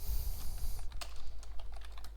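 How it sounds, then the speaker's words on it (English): Quick, close keystrokes on a computer keyboard as a name is entered in a Shift4 Shop checkout page setup, an irregular patter of crisp clicks with no talking. "Now we have to give it some information such as the name, so type in checkout"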